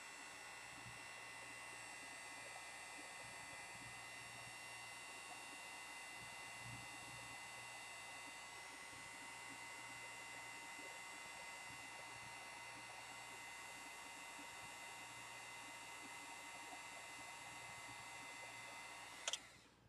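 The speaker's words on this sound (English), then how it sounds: "Heat gun, very hot." A heat gun blows hot air in a long, steady, even whoosh with a constant motor whine, heating heat-shrink on a drone build, then cuts off abruptly at the end; no talking.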